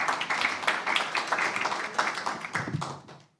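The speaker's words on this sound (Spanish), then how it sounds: "para quien pido un fuerte aplauso también" Audience applause at a panel on evaluating the 2024 electoral rules, steady dense clapping for about three seconds, moderately loud, then tapering off quickly at the end.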